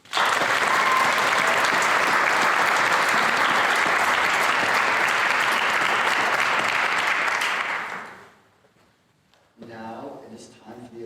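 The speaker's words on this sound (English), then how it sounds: "Please join me in applauding Carson Wright" Sustained audience applause at a 2022 Kittitas County youth awards ceremony, honoring a Civic and Community Service nominee; dense and steady for about eight seconds, then fading out before a voice begins speaking.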